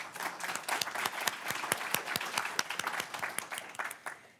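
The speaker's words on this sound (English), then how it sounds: "Big round of applause for all the organizers today." An audience at a county climate summit claps for the organizers, a lively burst of many hands with distinct sharp claps standing out, continuous for several seconds.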